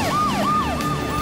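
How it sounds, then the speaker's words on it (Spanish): Cartoon emergency vehicle siren in Tayo, a loud close wailing tone rising and falling in quick repeated sweeps. "Cuando escuches las sirenas, baja la velocidad y déjala pasar al frente."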